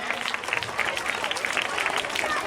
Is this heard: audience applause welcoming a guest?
yes